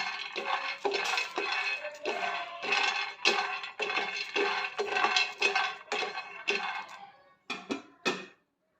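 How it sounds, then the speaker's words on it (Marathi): Dry peanuts rattle and scrape as they are roasted and stirred in a hot pan on a gas stove, a steady run of loud clattering strokes that breaks into a few separate scrapes before stopping. "शेंगदाणे भाजून घ्यायचे चांगले खरपूस भाजून घ्यायचे आहेत शेंगदाणे"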